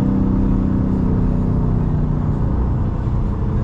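Car engine held at a steady, loud rev of about 3500 rpm after a downshift, a continuous low rumble and whir with no talking.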